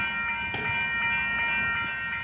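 A Union Pacific inbound manifest freight train led by locomotive 6256 rolls past at a street crossing in Tempe, Arizona, a steady moderate rumble with rhythmic wheel clacks on rail joints and a faint high-pitched whine, no horn.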